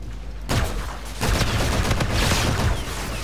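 Sustained automatic gunfire in Call of Duty: Infinite Warfare multiplayer, a dense loud rattle that starts abruptly, dips briefly, then surges again and keeps going with booming impacts.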